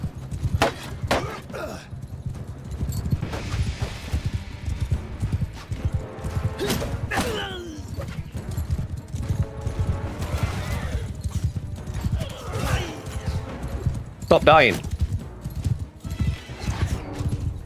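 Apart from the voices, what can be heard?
horses galloping and neighing in Mount & Blade 2 Bannerlord video game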